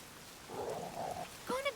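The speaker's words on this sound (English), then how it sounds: "Rain's back again." Steady rain falling in the video game The Witcher 3, a soft continuous hiss of drops throughout, with a voice talking briefly over the weather in the middle and at the end.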